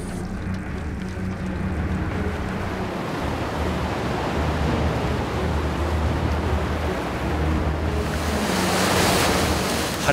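Steady ocean surf roars under gusting wind buffeting the microphone aboard a fishing boat at sea, with a louder wash of wave noise building near the end.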